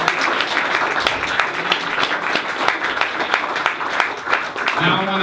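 An audience at a Boston DevOps panel event applauds, a dense, steady burst of many hands clapping over about five seconds before fading into a voice.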